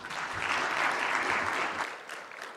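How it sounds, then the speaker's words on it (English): A conference audience at a health event in Kigali, Rwanda, gives a full round of applause that holds steady and then fades away toward the end. "Another round of applause to Dr. Prebo."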